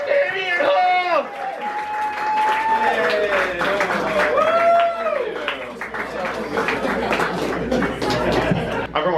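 A comedy club audience at an open mic stand-up night applauds and cheers as a comedian is brought to the stage, loud sustained clapping mixed with whoops and crowd chatter.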